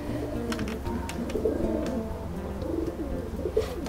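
Pigeons coo softly in low, rolling bursts that repeat through the scene, with faint clicks and rustling in the background.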